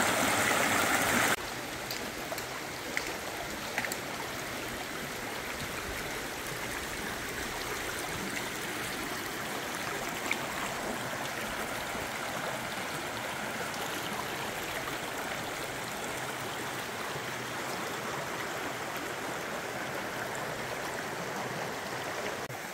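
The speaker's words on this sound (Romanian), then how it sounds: "Râul Dâmbovița, care merge la capitală, și cheile Dâmboviței, cu apă rece." The cold Dâmbovița river rushes steadily through its gorge near Rucăr, a constant broad wash of flowing water with no breaks.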